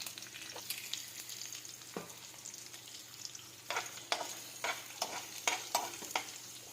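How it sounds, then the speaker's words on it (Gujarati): Onion sautéing in a pan with whole cinnamon, cardamom, cloves, peppercorns and bay leaf: a quiet, soft sizzle broken by irregular scraping strokes of a stirring spoon that grow more frequent toward the end, with no voices. "ડુંગળી આપણી સંતળાઈ ગઈ છે"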